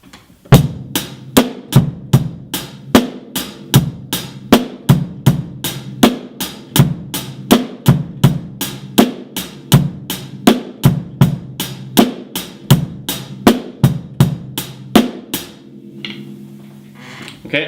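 Drum kit playing a steady 4/4 rock beat with the bass drum kicks shifted off the usual counts, sharp regular hits alongside crisp hi-hat, recorded close and clear before a brief pause at the end.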